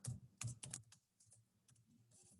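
Quick bursts of keystrokes on a computer keyboard as a title is typed into a document, clustered clicks at the start, then lighter scattered taps close by.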